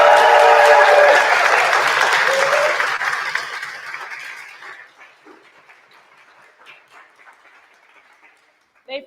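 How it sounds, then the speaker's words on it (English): Audience applause at an opening ceremony, loud at first and then fading over several seconds to near silence, with a few faint scattered sounds after. "A big applause, please."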